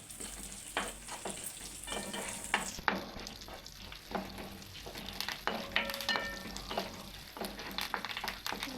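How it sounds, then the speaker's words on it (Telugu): Peanuts, roasted gram and green chillies fry in hot oil in a home kitchen, a steady close sizzle punctuated by the scrape and clatter of stirring. "పల్లీలు, పుట్నాలు, పచ్చిమిరపకాయలు వేసుకుంటున్నా"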